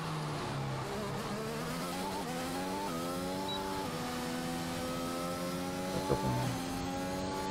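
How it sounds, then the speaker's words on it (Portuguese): A damaged racing engine in an Aston Martin F1 car, running a lap of Austria in F1 2021, whines loudly and continuously as its pitch climbs and drops through repeated gear changes. "Caraca, o motor tá todo fodido, não troquei as peças do motor"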